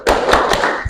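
A classroom full of students claps together in a counted routine, three quick loud group claps blurring into a dense, close burst of sound.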